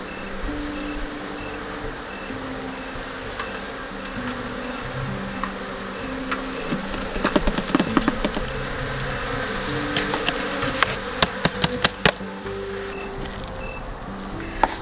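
A small African honeybee colony drones in a steady close buzz during a hive removal, with individual bees whining past and a few sharp clicks and taps toward the end.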